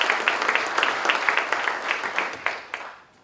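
At a county board meeting, the room applauds retiring staff. The clapping is moderate and rhythmic, with distinct claps, then fades and trails off into a few final scattered claps.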